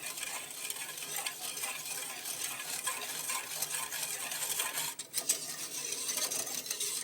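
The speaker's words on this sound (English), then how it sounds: "stir it until it's well mixed and all of the dry ingredients are dissolved" A spoon stirs a cold, unheated pudding mixture of cornstarch and dry ingredients in a pot, making a steady, close scraping and swishing that runs without pause, with one brief clink near the end.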